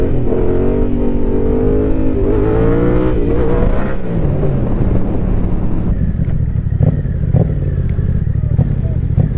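Yamaha Tracer 700 motorcycle engine while riding, a loud steady drone with rising and falling revs and wind rush, a voice talking briefly over it.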